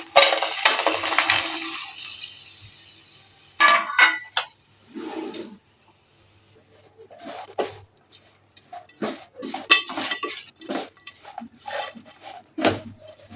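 Jaggery goes into a spoonful of ghee in a pan over a low gas flame, with intermittent metal spoon scrapes, clinks and stirring bursts separated by quiet pauses.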